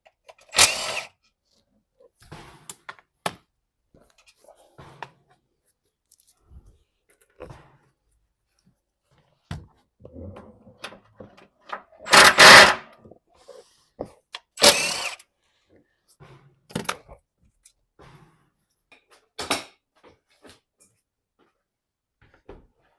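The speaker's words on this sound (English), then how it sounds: "I can take some of the lower front cover housing bolts off while I'm down" Bolts on the lower front cover housing of a Nissan engine being loosened and removed with tools, heard as sparse ratcheting clicks and sharp metallic clanks with quiet gaps between them, close by and with no talk.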